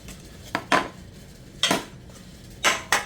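An eggless cake is knocked out of its metal baking pan with four sharp metallic bangs in two pairs, close and loud, and no talk.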